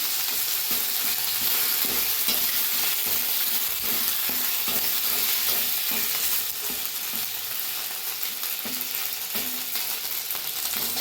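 Ginger paste sizzles in hot oil with whole spices while being stirred, part of a vegetarian drumstick-flower kofta curry. A constant bright hiss and crackle fills the clip, broken by soft scraping stir strokes, with no one speaking.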